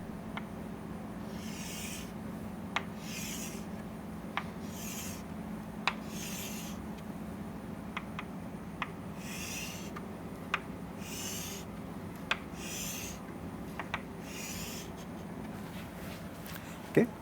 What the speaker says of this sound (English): We draw horizontal lines and vertical lines like this